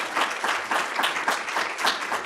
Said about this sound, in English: So give them a big round of applause for all these 2 projects